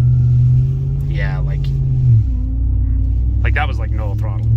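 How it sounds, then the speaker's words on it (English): A Ram TRX pickup truck drifting in a donut, its engine droning loudly and steadily, then dropping in pitch as the throttle eases, while someone talks over the engine noise. "like that was like no throttle and I was drifting"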